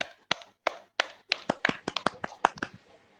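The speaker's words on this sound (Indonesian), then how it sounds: "kita berikan aplaus, tepuk tangan untuk Ibu Antika" Sparse claps from an audience for Ibu Antika start slowly, then quicken into a short ragged round of applause from a small group, close and clear with no talking.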